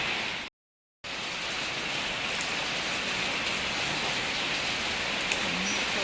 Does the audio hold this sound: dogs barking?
no